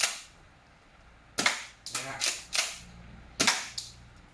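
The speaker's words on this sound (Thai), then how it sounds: "ลูกกระสุนจะออกครั้งละสามนัดนะเดี๋ยวเราจะยิงให้ดู" A toy CM355 pump-action shotgun firing three pellets per shot, giving a series of sharp, close cracks with pump clacks between them, six loud bursts in all with quiet gaps.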